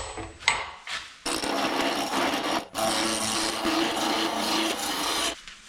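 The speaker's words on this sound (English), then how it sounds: "Let's get this thing round," A big roughing gouge shaves a spinning wooden vase blank on a lathe, making a loud, continuous rasping scrape in two long passes with brief gaps between them.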